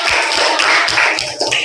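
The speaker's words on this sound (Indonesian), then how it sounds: "Nah, tepuk tangan." A classroom of students claps hands together in a rhythmic burst of loud, close, sharp slaps, with no talking over it.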